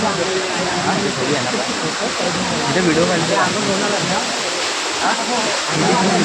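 Steady rain pours down outside a Chandika Devi temple at Dabhol harbour, a broad continuous wash of falling water heard close and loud throughout, with people talking over it.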